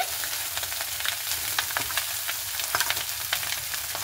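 Chow mein noodles hiss and crackle as they are stir-fried in a hot pan, a steady close sizzle with a few scraping stirs and no voices.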